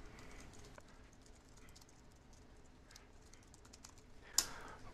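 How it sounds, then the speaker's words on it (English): Text is typed on a computer keyboard, heard as faint, scattered key clicks in a quiet room, with one sharper tap near the end. "type in my text"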